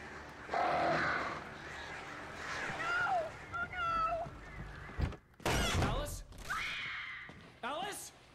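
Crows cawing in the video game Alan Wake, several harsh calls in close succession mixed with thuds, gasps and a voice talking over them.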